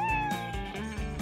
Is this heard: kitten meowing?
yes